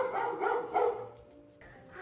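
A few short dog barks or yips close by, then a quieter stretch with a faint whine.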